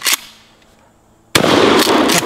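A Remington Tac 14 pump shotgun fires at targets outdoors: one sharp blast, a brief near-silence, then a second loud report followed by lingering rough noise.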